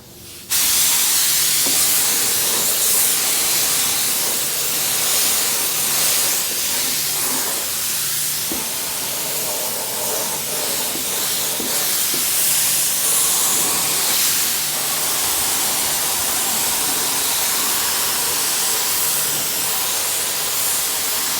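Steady, loud hiss of primer spraying from a can or gun onto the new sills of a JDM Toyota Celica GT4 ST185 under restoration, running almost unbroken for the whole stretch with slight swells as the spray moves.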